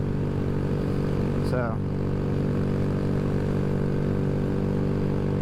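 Honda Grom motorcycle with a ram air intake cruising at 57 mph, a steady loud engine drone with strong harmonic bands throughout, wind rushing over it, and a brief voice near the middle.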